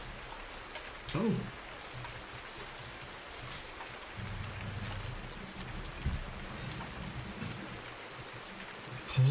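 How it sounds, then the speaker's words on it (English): Steady rain falls in the farming video game Farming Simulator 19, a soft continuous hiss with low rumbles and a few brief louder bumps, and a short exclamation from a voice. "Stop raining!"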